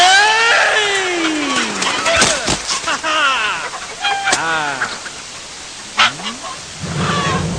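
Chickens cluck and squawk amid a busy, noisy scene, with voices and other clatter mixed throughout.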